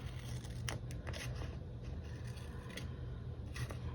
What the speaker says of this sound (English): What I think I'm going to do for the circles is actually cut these in half